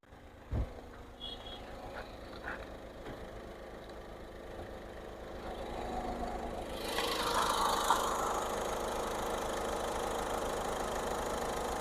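A 2014 Ford EcoSport engine idles steadily with a low continuous rumble, growing slightly louder partway through, with no talking.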